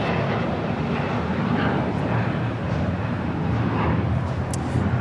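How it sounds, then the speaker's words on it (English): Steady, loud broadband jet engine roar from a Boeing 787-9 Dreamliner of Air Premia pushing back at LAX airport, continuous for the whole span with no voices. "It's a 787-9 Dreamliner now pushing back."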